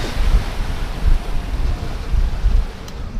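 Big North Sea waves surge and crash against a small sailing yacht crossing singlehanded in winter, heavy rumbling thumps rising and falling under strong wind buffeting the microphone, close and loud, with no voices.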